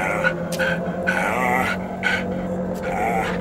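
A dog in a horror video game growls, yips and whimpers in a continuous run of short, strained vocal bursts over a steady droning background.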